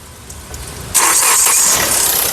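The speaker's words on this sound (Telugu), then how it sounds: "సింగిల్ సెల్ఫ్లో కార్ స్టార్ట్ అవుతుంది" A 2017 Hyundai Creta SX cranks on a single try. Quiet background gives way to an abrupt catch, and the engine then settles into a steady, close idle.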